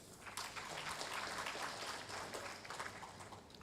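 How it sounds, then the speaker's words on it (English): Faint, distant applause from a conference audience at a national health promotion and disease prevention conference, a steady patter of hand claps for the secretariat team lasting a few seconds. "I request that we give them a hand clap"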